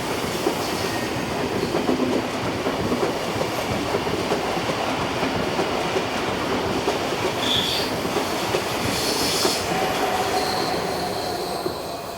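A Swiss push-pull train hauled by a Class 460 locomotive rolls along the Gotthard north ramp, a loud, continuous rumble of wheels on rail with faint squeals, staying close and steady throughout with no voices.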